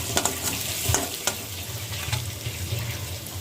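Green chilies frying in a pan, a steady crackling sizzle with a few sharper pops and clinks of a spoon, close and fairly soft, no talking.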